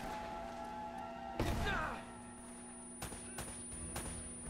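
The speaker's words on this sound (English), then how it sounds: "They're shooting at you." Gunfire from enemies in the Uncharted: Drake's Fortune video game, one loud burst followed by a few sharper, fainter shots over a steady game background hum.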